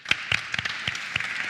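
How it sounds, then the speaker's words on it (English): Applause at a live stage event, a brief spell of scattered, fairly close claps from a small audience lasting under two seconds. "Big applause."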